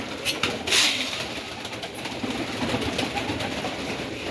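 Pigeons in a dovecote give soft cooing and fluttering amid a steady, noisy room ambience, close and continuous.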